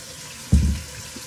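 Blended tomatillo and habanero sauce pours from a blender into a glass in a home kitchen, a short gurgling splash starting abruptly after a quiet moment and tapering off within half a second.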